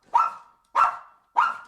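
A dog barks three times in a room while a WWII veteran is being interviewed, each bark close, loud and evenly spaced about half a second apart, with silence between them.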